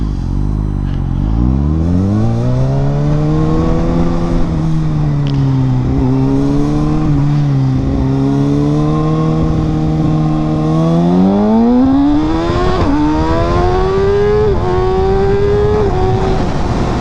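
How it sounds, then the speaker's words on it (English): A bunch of cars drive past, steady loud engine drone with pitch rising and falling as they accelerate and shift, continuous traffic close by with no talking. "Bunch of cars."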